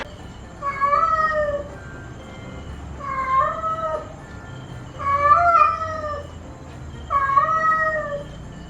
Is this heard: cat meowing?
yes